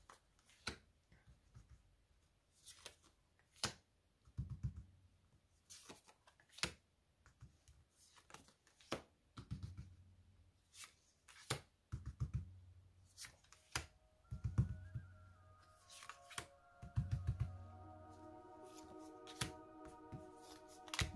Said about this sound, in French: je vais poser les cartes.